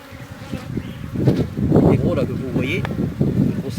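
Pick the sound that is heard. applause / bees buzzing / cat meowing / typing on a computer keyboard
bees buzzing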